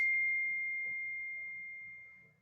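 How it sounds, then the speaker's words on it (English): A phone's text message alert rings out as a single clear, steady tone that lingers for about two seconds and fades, with faint background noise and no talking. "sorry, just got a text message."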